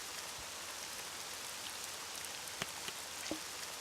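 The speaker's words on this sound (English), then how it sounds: "it's been raining too this whole time" Rain in the RollerCoaster Tycoon 3 video game falls as a steady, even hiss throughout, with a few sharper drop ticks standing out near the end.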